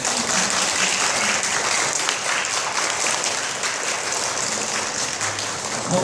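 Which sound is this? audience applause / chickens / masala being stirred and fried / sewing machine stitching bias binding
audience applause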